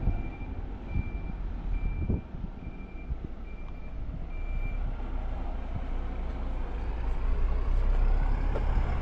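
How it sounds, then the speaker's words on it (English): A bus reversing with steady evenly spaced beeps at a station in Calama, Chile, heard over a loud rumbling idle engine and street traffic noise that grows louder toward the end. "That bus is taking us to Calama today morning."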